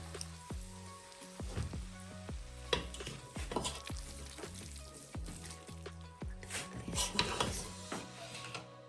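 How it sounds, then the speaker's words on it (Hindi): Pesto sauce is stirred through cooked pasta in a pan, with a steady run of scraping, clattering spoon strokes and soft sizzling that keep a busy, close rhythm throughout. "अब इसको अच्छी तरह मिक्स कर लेंगे।"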